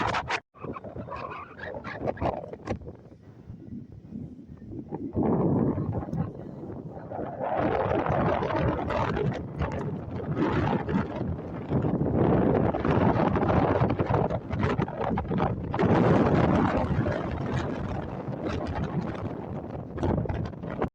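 Strong wind buffets the microphone in heavy, roaring gusts that build and stay loud, with rumbling bursts through most of the stretch.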